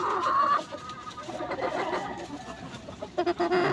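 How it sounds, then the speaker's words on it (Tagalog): Chickens cluck and chatter close by, a busy run of short calls with some outdoor background noise. "Ito na mga Katro Brothers, ang manok natin na binigay sa atin."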